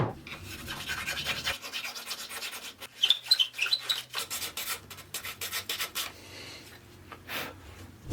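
Hand filing of a hole in a high-end road bike frame, a run of short rasping strokes in an uneven rhythm, close and fairly quiet with no talking.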